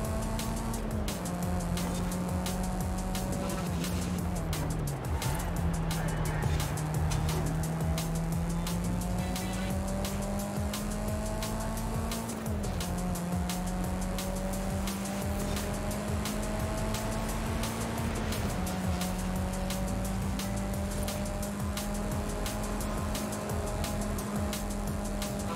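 Hot Wheels cars race in the video game Forza Horizon 5, a sustained engine drone that climbs in pitch through repeated gear shifts, loud and continuous, with occasional tire noise and no talk.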